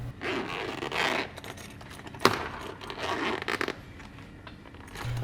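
A clear plastic zip bag holding a Woomer 9-color watercolor travel palette kit is unzipped close up, with repeated rasping zipper pulls and crinkly plastic handling, a sharp snap partway through.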